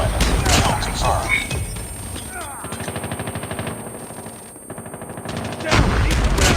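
Rapid gunfire in a Call of Duty team deathmatch, with a shotgun fight among the shots. Loud repeated bursts and thumps are heard alongside game voice chatter and sound effects.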